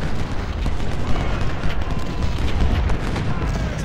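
Continuous rumbling cannon and artillery fire from a Civil War battle in the strategy video game Ultimate General: Civil War, a loud dense barrage of booms blending into a steady roar with no pauses.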